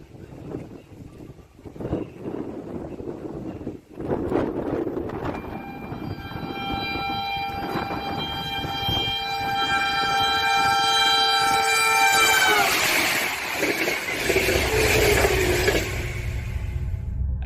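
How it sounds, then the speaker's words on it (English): A fast train approaches with long, loud horn blasts and a growing metallic screech of wheels or brakes, the roar swelling and peaking near the end as it passes close by. "This is when the train starts squealing to warn him of its presence."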